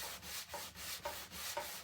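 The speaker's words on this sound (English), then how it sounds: "Get this sanded." Rhythmic sandpaper strokes rub back and forth across a painted wooden spindle cross, about six even passes close up at a moderate level, with nobody talking.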